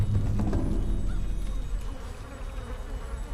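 Bees buzzing in the video game Mini Ninjas, a soft continuous insect drone under low rumbling game ambience with a few faint clicks.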